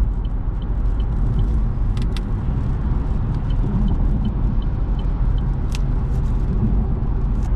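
Steady interior drone of a 2021 Chevrolet Trailblazer LS FWD with a 1.2L turbo engine accelerating while merging onto a highway, with continuous low engine and road rumble and no talking.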